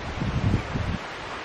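Wind blowing outdoors ahead of an approaching storm, a soft rumbling gust with rustling buffeting against the microphone that drops to a quieter hiss near the end.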